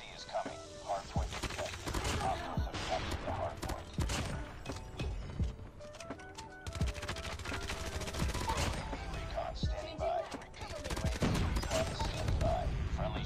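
Rapid gunfire bursts from the mobile shooter Call of Duty Mobile, close, repeated volleys of sharp shots and automatic fire with mechanical clicks, under occasional player talk.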